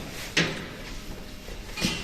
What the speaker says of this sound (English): Let's try opening up these evacuation doors and see what's behind them.